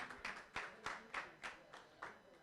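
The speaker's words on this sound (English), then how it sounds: "Give me a round of applause for Sherry Weaver" Audience applause at a bench press championship, heard as a quiet, sparse scattering of separate claps in an uneven rhythm, as if from a small crowd some distance away.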